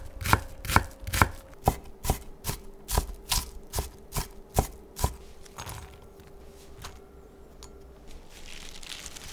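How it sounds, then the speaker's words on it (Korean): A knife chops half a small onion on a cutting board, about a dozen sharp, evenly spaced knocks, close and clear, ending in quieter scraping. "양파 작은 거 반 개는 칼집 여러 번 넣고 작게 썰어 담고"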